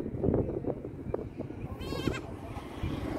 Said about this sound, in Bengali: এই ছাগল ডাক